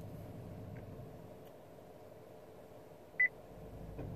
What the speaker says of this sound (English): the car will beep and it will change to 100